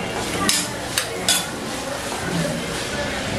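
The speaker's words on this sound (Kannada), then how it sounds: "ಅಂಡ್ ಅದ್ರ ಜೊತೆಗೆ ಹಸಿಮೆಣಸಿನಕಾಯಿನೂ ಕೂಡ ಫ್ರೈ ಮಾಡ್ಕೊಳ್ಳೋಣ." Green chillies fry in a pan for Mysore-style pepper chicken, with a busy hiss of sizzling oil broken by three sharp utensil clinks near the start.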